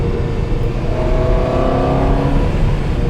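A Ferrari 360, a flood-salvaged car brought back to running order, driving along with a steady, loud engine drone and layered harmonic whine, holding an even pitch throughout with no talking.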